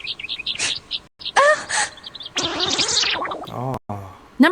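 Birds chirp in a short anime scene, bright tweeting calls in brief bursts mixed with a sweeping voice-like sound and scattered effects, fairly loud and close.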